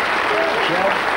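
Dense applause from a large crowd, a steady wash of clapping throughout, with voices faintly underneath.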